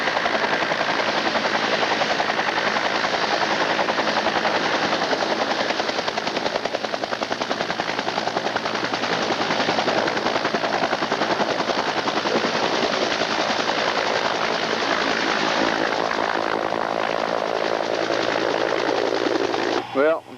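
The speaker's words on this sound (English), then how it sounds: "Helicopter out there." A helicopter flying outside a bunker during the 1991 Gulf War gives a loud, steady rapid rotor chop and engine roar that fills the whole stretch without letup, heard from nearby and cutting off abruptly at the end.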